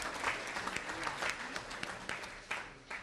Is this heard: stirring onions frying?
no